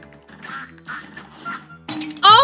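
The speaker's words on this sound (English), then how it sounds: "Oh my god, I was focusing on the duck." A cartoon duck in the video game Cuphead gives a series of quacks, several evenly spaced nasal calls followed by a louder burst at the end, close and clear.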